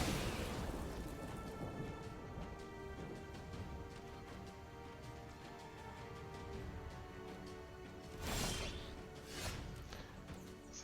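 Thunder and rain effect from a Lightning Strike card in the MTG Arena video game: a steady wash of rain-like noise under game music, with two brief crackling bursts of thunder near the end.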